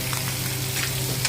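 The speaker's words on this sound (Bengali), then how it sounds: "ডিম আলু নুন হলুদ দিয়ে ভাজছি, প্রায় ভাজা হয়ে গেছে" Eggs and potatoes with salt and turmeric fry in a pan, a steady close sizzle with faint stirring scrapes throughout, and no voices.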